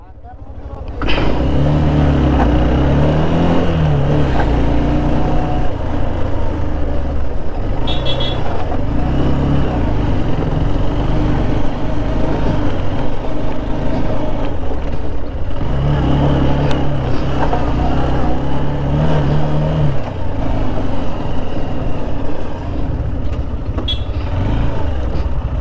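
Motorcycle riding in and parking at a bikers' mega camping fest in Comilla, a steady engine drone close by with pitch shifts as it slows, amid crowd noise and voices talking.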